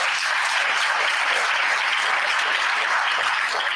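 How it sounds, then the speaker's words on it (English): Steady, dense audience applause at a school district ballot presentation, many hands clapping evenly and fairly close throughout. "Please give her a round of applause."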